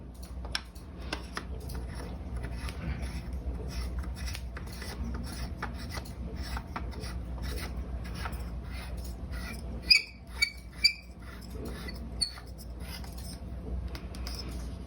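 A Blue Snowball Ice microphone being screwed onto its stand, giving soft, close scraping and rubbing with a few small plastic clicks toward the end.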